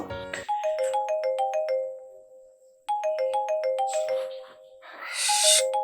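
A phone rings late at night with a bright melodic ringtone: two runs of quick descending chimes separated by a pause, then a brief rustling burst at the end.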